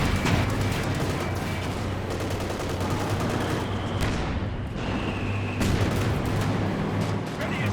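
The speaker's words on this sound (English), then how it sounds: "The AT gun's shooting at the command tank." An anti-tank gun fires in Company of Heroes 2 amid a dense, sustained battle din of gunfire and booms, with sharp reports standing out from the loud, continuous rumble of combat.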